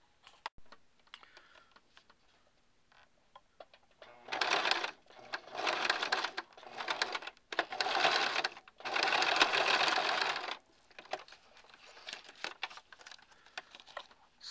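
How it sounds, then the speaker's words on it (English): A sewing machine stitches around the edge of a vinyl zipper bag in several bursts of rapid, steady whirring separated by short pauses, fairly close and clear with no talking. "Sew all the way around to the other end and backstitch."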